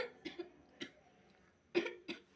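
A child coughs several times in short, soft bursts, with a stronger pair of coughs near the end, close by in a quiet room.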